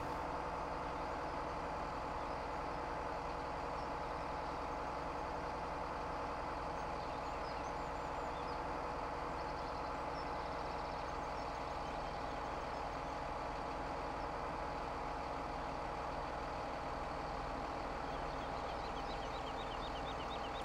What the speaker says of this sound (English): kind of surprised this truck would struggle this much with this